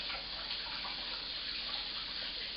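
A kitchen tap runs steadily as hands are rinsed, a soft, even hiss of flowing water at close range that stays constant for a couple of seconds with no voices.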